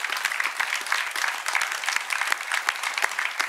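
An audience claps for visiting school groups with steady, crisp applause from many hands, a continuous patter that holds even and fairly close throughout.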